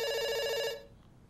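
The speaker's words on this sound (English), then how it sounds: "It's ringing. It's ringing me." A telephone rings in the Dr. Langeskov video game: one bright, trilling bell burst, loud and close, cutting off abruptly after under a second and leaving near silence.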